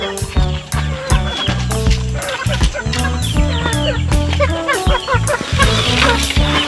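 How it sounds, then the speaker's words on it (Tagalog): A rooster and other chickens kept in a cage cluck and crow close by, busy overlapping calls throughout with a steady low hum beneath. "Ayun yung manok na nilagay dun."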